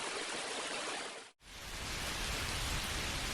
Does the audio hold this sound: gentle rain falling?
yes